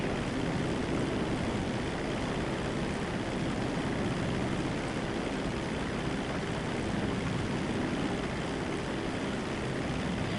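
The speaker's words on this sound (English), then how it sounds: "I heard the fighter jet getting ready. There it is." Steady, loud broadband roar of a fighter jet in GTA V Online, a continuous engine rush holding even throughout with no voices.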